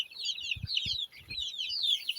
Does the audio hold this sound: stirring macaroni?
no